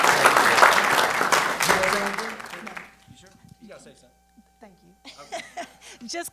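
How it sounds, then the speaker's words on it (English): Crowd applause with some chuckling at a city council meeting honoring students, dense clapping for about two and a half seconds that dies away, followed by quiet speech. "So give yourself a round of applause"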